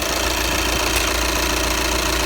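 A Volkswagen Passat B7 engine runs, humming loudly and evenly up close, with a steady mechanical ticking under the constant drone.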